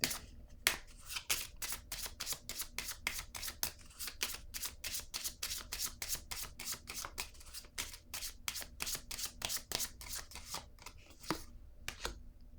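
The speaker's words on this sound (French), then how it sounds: "Je vais piger une autre carte." Tarot cards being riffled and shuffled in the hands, a long run of rapid crisp flicking snaps, close and steady, with no talk.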